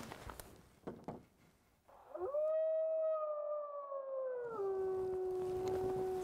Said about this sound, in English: we can carry on and do some of the howling playbacks and see if we can hear some other groups respond